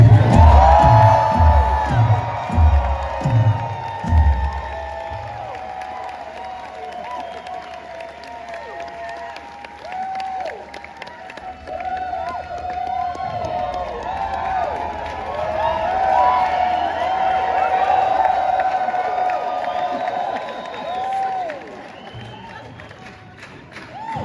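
A concert crowd at a show in Chicago screams, whoops and claps for the drummer, a sustained loud roar with scattered high cheers lasting the whole stretch, after a few heavy drum hits at the start.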